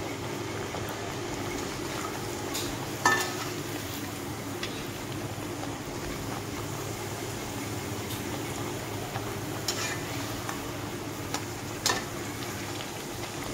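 Tricolour puris deep-fry in hot oil with a constant bubbling sizzle, close and fairly quiet, with an occasional sharp clink of a utensil against the pan and no voices.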